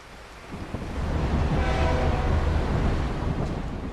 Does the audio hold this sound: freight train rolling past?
yes